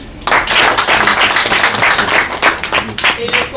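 After a brief quiet start, a crowd at a ceremony bursts into full applause welcoming the Guinean delegation, a loud, sustained roll of clapping that continues to the end.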